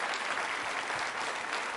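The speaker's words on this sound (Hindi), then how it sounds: "आप सभी अपने लिए तालियां जोरों से बजाइए।" At a quiz show with Biyani Girls College students, the audience claps for itself. Even, sustained applause from a sizeable crowd holds steady throughout, with no speech over it.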